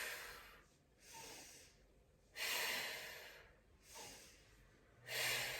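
Slow, audible breathing in and out during a Pilates single leg stretch on a mat, with soft, airy breaths alternating with quiet pauses in a steady rhythm, close by and fairly faint, with no talk.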